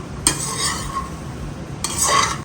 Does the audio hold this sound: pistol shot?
no